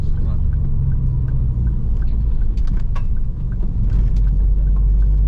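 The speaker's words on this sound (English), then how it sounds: "That's fourth gear from 1000 RPM up a hill" Car engine lugging in fourth gear from about 1000 RPM while climbing a hill, a loud, steady low rumble heard from inside the cabin, with a voice speaking over it.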